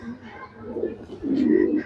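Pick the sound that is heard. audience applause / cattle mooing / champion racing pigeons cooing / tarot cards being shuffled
champion racing pigeons cooing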